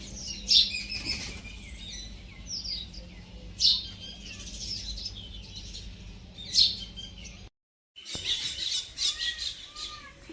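Sharp myna chirps and calls ring out in spaced bursts over a steady background hum, briefly cutting to silence before more chirping resumes.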